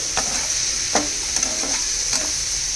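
Close hiss of frying in a pan, for little millet ponganalu, with a few distinct scraping stirs of a spoon over the steady sizzle. No voices.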